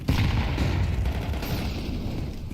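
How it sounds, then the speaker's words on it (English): Grenade blast in Counter-Strike 2 during a pro match, landing at Boiler: a loud, dense burst of explosive roar and gunfire-like crackle that starts abruptly and stays heavy for a couple of seconds. "Nade right into Boiler does extensive early damage."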